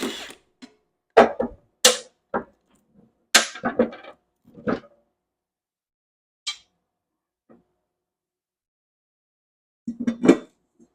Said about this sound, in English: I think that this is just a little bit bent, so I'll just smack this with a hammer,